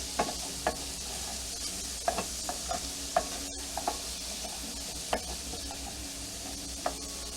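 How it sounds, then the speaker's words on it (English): Onions slowly browning in a pan over medium-low heat, a soft steady sizzle broken by intermittent sharp stirring scrapes and clicks. "we're just going to slowly brown these onions"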